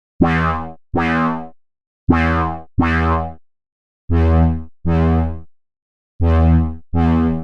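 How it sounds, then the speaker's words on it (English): Eight resonant Serum synth notes in pairs, each with a sharp, squelchy high-resonance low-pass filter sweep that sounds twangy and boing-like, separated by short silences. "lots of these sounds need a high resonance for this low-pass filter"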